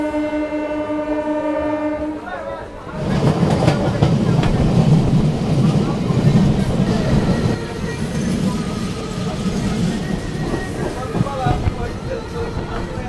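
A local train on the Kharagpur to Digha line, near Panskura on the Panskura–Digha section, opens with a long steady horn blast, then breaks into a loud, continuous rumble and rattling clatter of the moving carriages.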